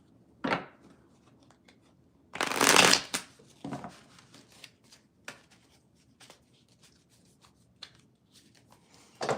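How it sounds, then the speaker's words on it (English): Tarot cards shuffled by hand: a quick riffle, then a longer loud burst of riffling around the middle, followed by scattered soft taps and slides of cards, close and alone with no talk. "Let's do another shuffle"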